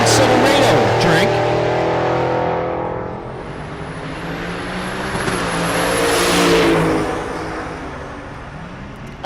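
A 1970 Chevy Suburban with a big blower and a 1999 Silverado race at a drag strip during Rocky Mountain Race Week, engines roaring loudly off the line and fading down the track, with an announcer talking throughout.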